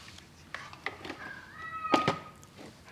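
A cat meows indoors near a workbench with PLC wiring. One drawn-out meow rises and wavers, close and clear, among light tapping and handling noises and some talk.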